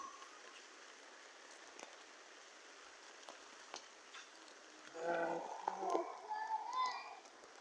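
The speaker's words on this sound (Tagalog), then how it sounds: "Sobrang lakas na ng ulan." Heavy rain falls in Matnog, Sorsogon near a seawall, a steady soft hiss that runs throughout, with a voice speaking briefly over it toward the end.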